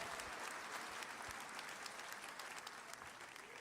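A church congregation applauds at an evening service, steady dense clapping from many hands continuing without a break, fairly distant and even.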